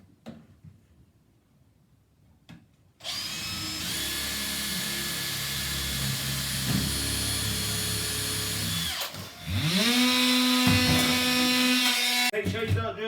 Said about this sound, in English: So I'm drilling it straight through.